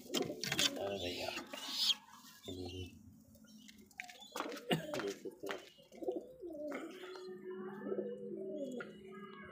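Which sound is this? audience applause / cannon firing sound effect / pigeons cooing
pigeons cooing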